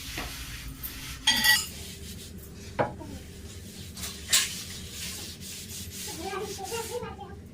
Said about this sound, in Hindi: धुल रहे थे बर्तन